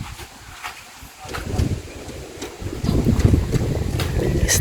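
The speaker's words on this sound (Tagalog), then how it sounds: "Mahangin ngayon." Gusty wind blows outdoors in front of a house, a rough, steady rumble of air buffeting the microphone that grows stronger toward the end, with no clear speech.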